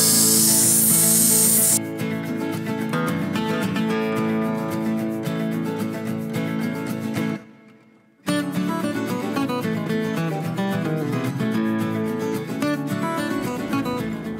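A DA sander works over a rusty Estwing camping axe head, a steady loud abrasive whir with rough rubbing texture that cuts out briefly before resuming.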